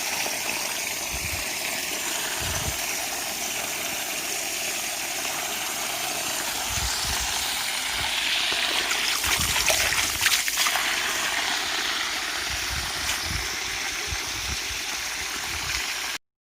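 A steady trickle and gush of water fills the basin dug around a malta orange tree, continuous and close, over a low idling engine-like drone with occasional knocks.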